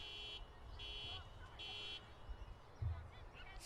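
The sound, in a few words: car alarm going off in a car park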